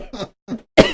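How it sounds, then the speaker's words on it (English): Three close, dry coughs from one person come in quick succession, the first two short and muffled and the last one louder and harsher. "Your stuff is making me cough."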